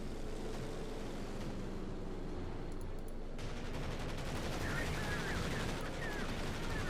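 Rapid machine gun bursts rattle amid a dense battlefield din in a Company of Heroes 2 match, with suppressing fire and explosions layered under a steady roar of combat noise.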